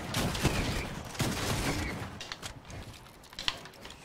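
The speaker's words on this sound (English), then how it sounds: "Stop shooting me. Don't shoot me." Gunfire aimed at the player in a video game, several sharp cracks and short bursts spread over a few seconds against a dense, noisy background, moderately close.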